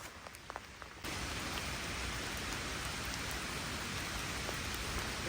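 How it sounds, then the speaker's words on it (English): Steady rain pours down, a dense even hiss with a few soft drips at first before the downpour fills in. "So, it's still raining,"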